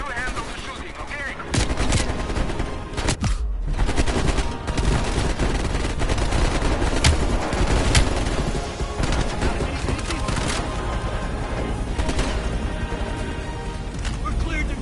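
Dense, continuous automatic gunfire and explosions from the Call of Duty Cold War video game, loud and sustained throughout with voices speaking beneath the shooting.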